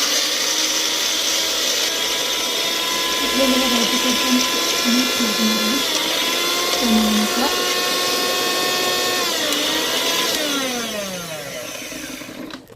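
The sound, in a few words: electric mixer grinding fenugreek leaves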